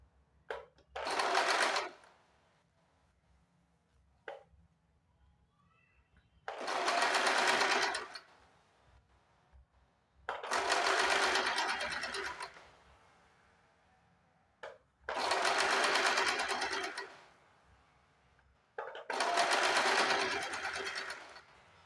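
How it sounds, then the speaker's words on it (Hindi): A sewing machine runs a straight seam on a katori blouse in five separate bursts of a second or two each, close and clear, with brief quiet handling gaps between them. "यहाँ से एक सीधी सिलाई लगा देनी है"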